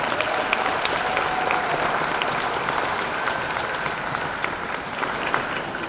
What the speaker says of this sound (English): Graduates, let's give our parents a round of applause.